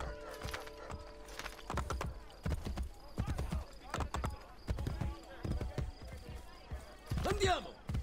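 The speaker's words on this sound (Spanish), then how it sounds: "Aquí está el caballo." Horse hooves clip-clopping in Assassin's Creed Brotherhood, a steady rhythm of close, sharp footfalls with a neigh near the end, while someone talks over it.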